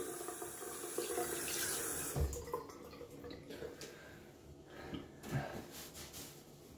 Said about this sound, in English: And now we will add cold water on this